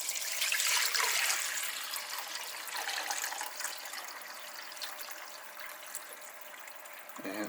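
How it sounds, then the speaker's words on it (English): Regular hot water pours steadily into the tank of a cheap plate compactor, a continuous hissing, splashing stream that stays close and fairly loud before cutting off at the end. "So this is just regular hot water."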